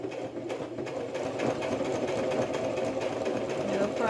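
A sewing machine stitches around the cover of a Little Golden Book, running in a steady fast mechanical whir for the whole stretch, close and fairly quiet, with no speech over it.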